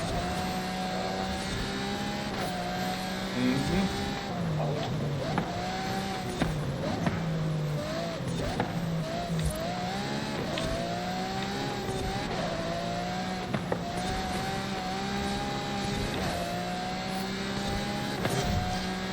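Engine of a fast car driven off-road in the racing game Forza Horizon 5, loud and continuous, with the pitch rising and falling through gear changes and bumpy terrain.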